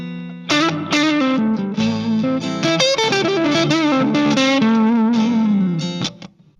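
Electric blues-rock guitar with effects and distortion plays a minor pentatonic lick over chords, bending and sliding notes in a continuous, loud, reverberant phrase that fades out at the end, with no talking.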